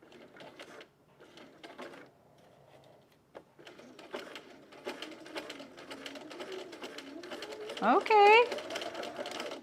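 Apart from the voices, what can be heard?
sewing machine stitching a Loftus bralette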